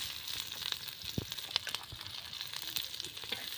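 Onions frying in a pan with roasted masala for jackfruit curry, a soft steady sizzle with faint occasional stirring ticks and scrapes.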